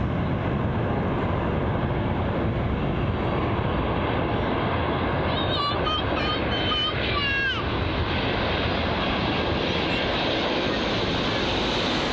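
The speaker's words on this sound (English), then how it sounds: "a relatively hard landing there from the Ryanair 737-800, a bit bumpy, but it wasn't the worst" A Ryanair Boeing 737-800 airliner lands at Bristol Airport, a loud continuous jet engine roar and rumble that holds steady throughout, with a brief whining tonal sweep partway through.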